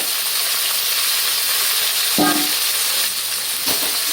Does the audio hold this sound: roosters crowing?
no